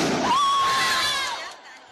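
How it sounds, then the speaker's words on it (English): Angry crowds clash with riot police in Shifang, China, during unrest over a planned copper factory: a dense, roaring wash of crowd noise with a thin sustained whistle riding over it, holding steady before fading toward the end. "In Shifang, a few weeks ago, riot police battled crowds."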